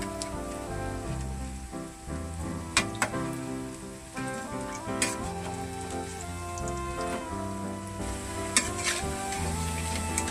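Spinach bondas fry in hot oil and are turned over, with a steady crackling sizzle and scattered spatters and clinks running under continuous background music.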